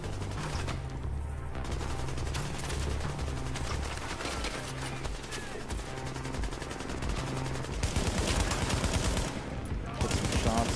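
Gunfire in The Division during a solo Dark Zone survival run, with several hunters around: dense, continuous shooting that rolls on for the whole stretch, loud and busy, with louder bursts near the end.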